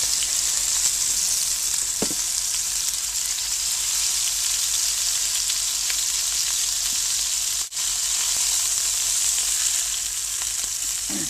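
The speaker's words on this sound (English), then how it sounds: "you want your pan to be really hot because you want to sear the meat" Steak searing in a very hot pan, a loud, steady, dense sizzle running unbroken throughout, with a few faint clicks and one brief dip in the hiss.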